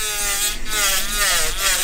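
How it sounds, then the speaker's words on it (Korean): Rolled sandpaper rubs over the surface of a silver ring, a steady close scratchy abrasive rasp that continues without pause. "요거는 사포를 말아놓은 건데 요걸로 이제 표면을 다듬는 작업을 한번 해보도록"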